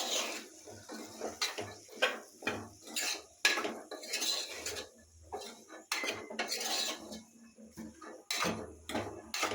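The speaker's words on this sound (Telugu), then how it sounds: "ఇదంతా బాగా కలుపుకుందాం." A spoon stirs chili powder and coriander powder into a black-eyed pea and potato curry in a pan, making close, irregular metallic clinks and scrapes against the pan with short pauses, and no voices.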